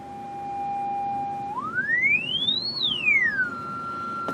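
Test tone from a restored Heathkit signal generator played through a speaker, a pure steady note that sweeps smoothly upward in pitch, then glides back down and holds, loud and clear with no talking.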